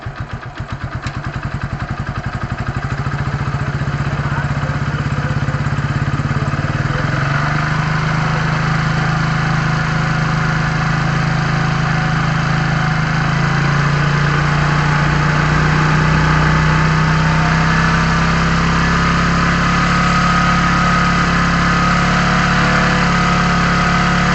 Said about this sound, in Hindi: मैं पहले इंजन की RPM को बढ़ाता हूँ।